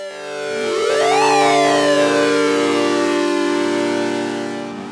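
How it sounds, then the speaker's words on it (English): Doepfer Quad VCO synthesizer oscillator hard-synced to a second oscillator, its frequency swept up and back down, producing a loud, buzzy, harmonically rich tone with sliding overtones that swell and fade over several seconds, with no voice. "now I'm sweeping the frequency of oscillator 1, but it is synced to oscillator 2, and so we're hearing that characteristic envelope controlled sync"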